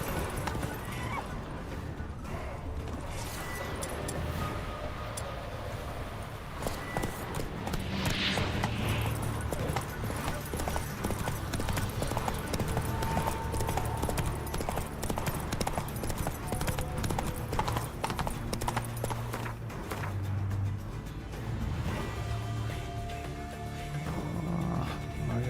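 Geralt's horse Roach galloping in The Witcher 3 video game, a long run of repeated hoofbeats, close and steady, with occasional snorts and a whinny over the game ambience.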